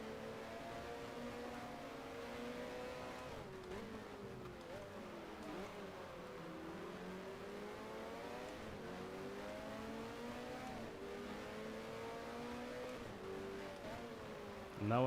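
Racing car engine in the F1 Challenge 1972 racing game, a loud continuous whine that rises and falls in pitch as the revs climb and drop through gear changes.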